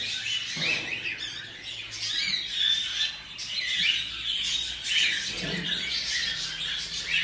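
Birds chirp and squawk continuously at close range, with busy, overlapping high calls and no talking.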